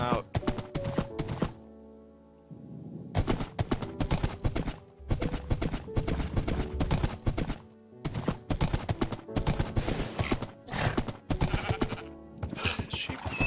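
Horse hooves clatter in rhythmic gallop bursts in Minecraft, paired with neighs, broken by short pauses amid a busy game soundscape on a 1.14 survival server.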